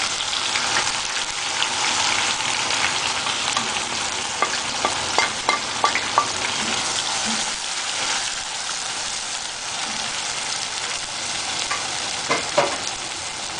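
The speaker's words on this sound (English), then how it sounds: "Put the oil into the pan and then add the zira and the garam masala and the cardamom. And then add the onion." Onion frying in hot oil in a pan with cumin seeds, garam masala and cardamom, a steady loud close sizzle with small pops and the occasional stir.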